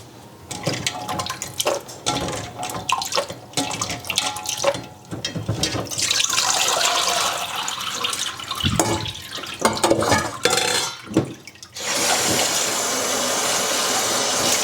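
Cold tap water runs into a sink in a steady, loud rush, with clattering and splashing as hazelnuts are rinsed under the stream in a strainer.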